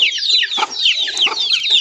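Farm chickens cluck and chirp close by at feeding time, a lively overlapping run of short, bright calls.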